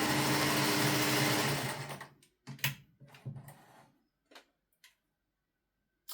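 A Singer 401 sewing machine runs a zigzag test stitch, a rapid loud mechanical chatter for about two seconds, then several short bursts of stitching separated by pauses.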